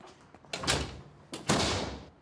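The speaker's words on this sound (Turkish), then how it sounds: "Kapıyı kapatayım." An old wooden door is pushed shut in two quick movements, each a creaky scrape ending in a loud thud, heard close up in a quiet room.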